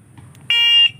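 A TWOOC electronic bike horn at full volume gives one loud, shrill, steady electronic beep lasting about a third of a second, close up, against quiet background rustle.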